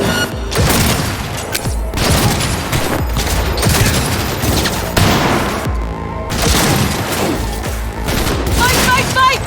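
A Cyberpunk 2077 cutscene shootout erupts in dense, loud bursts of gunfire and booming shots, rapid volleys stacking over one another with a short lull before the firing resumes, voices shouting beneath.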